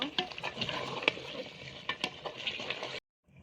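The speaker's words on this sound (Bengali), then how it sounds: "আলু পটল দিয়ে দিব। ভালোভাবে নেড়ে দিব।" A spoon stirs potatoes and pointed gourd through beef in a pan, giving close, steady scraping and sizzling with sharp clinks for about three seconds before it cuts to near silence.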